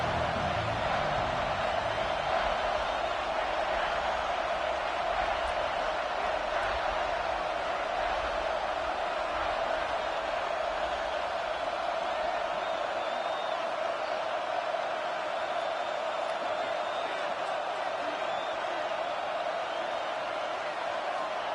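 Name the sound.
home crowd cheering at a Texas vs Arkansas football game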